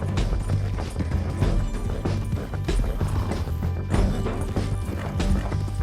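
Horse hooves clip-clop steadily with an occasional whinny, layered over dense Red Dead Redemption 2 game music and effects, loud and continuous throughout.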